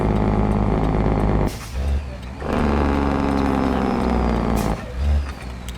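A heavy truck with a CAT 3176A diesel in a driving game rumbles loudly, broken by two sharp air-brake hisses as the engine drops off and then pulls back up, with no talk over it.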